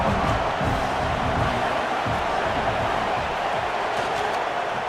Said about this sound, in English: listen to this crowd noise. The stadium is vibrating